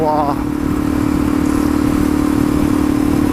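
A motorcycle fitted with a full exhaust system chopped into a low-cut pipe just ahead of the rear tire runs with a loud, steady, close engine drone throughout, with no spoken words.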